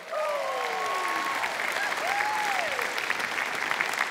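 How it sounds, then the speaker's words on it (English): Steady, sustained applause from a TV studio audience after a Cyr wheel performance fills the whole stretch, dense clapping with a few whistles or cheers rising above it. "a big round of applause again for Jo."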